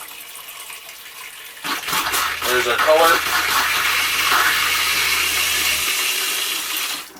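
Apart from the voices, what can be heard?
water running from bathtub tap in RV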